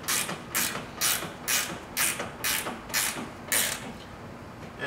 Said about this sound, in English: I recommend using a 9/16 wrench.